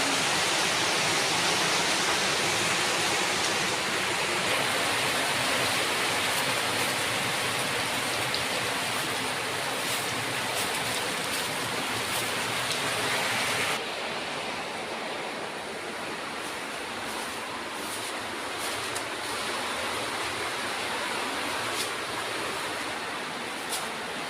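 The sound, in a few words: heavy rain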